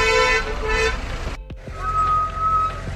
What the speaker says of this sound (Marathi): हे बघा ट्रॅफिक